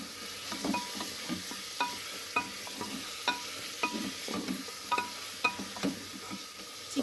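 Chicken pieces sautéing in butter, with a steady close sizzle broken by repeated scraping strokes of a spoon stirring the pan at an uneven rhythm, no voices.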